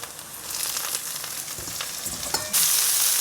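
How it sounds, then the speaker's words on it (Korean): Cucumber being stir-fried in a pan until lightly browned, a steady loud sizzle with scraping stirs, swelling into a harsher, brighter hiss near the end. "요런 색깔 나게 약간 연한 갈색 나게 고실고실하게 좀 볶으세요."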